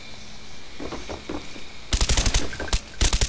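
Rapid automatic gunfire from Call of Duty Black Ops comes in loud, close bursts in the last half, preceded by quieter game ambience with faint muffled thuds.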